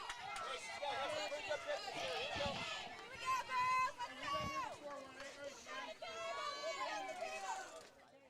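Crowd murmuring in the stands at a high school sectional-final softball game, a steady babble of many voices with a few louder shouts over a continuous hum.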